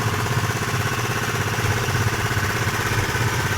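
Honda PCX 150 scooter engine idling steadily after restart, a continuous close low-pitched rumble with a fine rapid pulse throughout and no voices.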